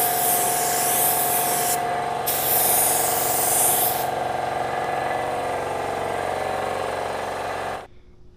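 A paint spray gun laying clear coat onto a car panel in extreme heat, a loud, steady close hiss that cuts out briefly twice before the spraying stops at the end.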